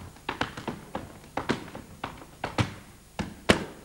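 Tap shoes striking a stage floor in a 1993 tap dancing routine, a string of crisp, close taps and heel thuds in an uneven, syncopated rhythm, heard alone without talk.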